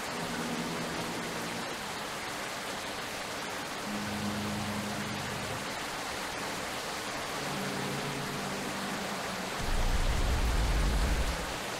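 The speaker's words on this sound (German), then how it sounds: "Kann der Regen wieder aufhören?" Steady, loud rain hiss from the Sally Face video game, a broadband wash of falling water running through the whole stretch with a low rumble swelling near the end; no one talks.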